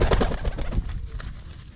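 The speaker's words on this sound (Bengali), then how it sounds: "গাইস এখন এই যে আমার পায়রা দেখতে পাচ্ছ, পায়রাগুলোকে একটু খাওয়াতে হবে এখন।" Pet pigeons coo and call close by while being fed, soft throaty calls overlapping in a busy cluster that fades slightly toward the end.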